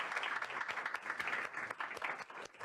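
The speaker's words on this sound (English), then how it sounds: "Let's just give our panelists one more beautiful round of applause for that" Audience at a refugee-themed conference gives panelists a steady round of applause, dense sustained clapping from many hands filling the room with no pauses.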